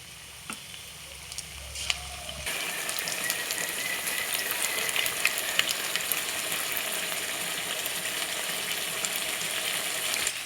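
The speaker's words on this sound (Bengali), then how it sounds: "আমার আলুর বড়াটা খুব সুন্দর করে ভাজা হয়ে গেছে" Steady, loud sizzling of potato fritters frying in hot oil, starting after a few quiet seconds and bubbling continuously to the end.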